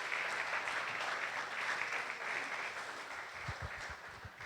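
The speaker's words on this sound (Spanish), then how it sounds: "Y vamos a darle un fuerte aplauso al Señor Jesús." A church congregation claps together in a dense, sustained burst of applause. It fills a large room, holds fairly even throughout, and a few low thumps come in near the end.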